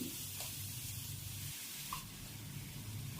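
Onion paste sizzles in hot oil with cinnamon, clove and cumin, a quiet, steady frying hiss with faint stirring, no one speaking.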